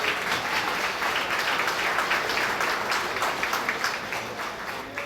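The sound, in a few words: audience applause at fundraising gala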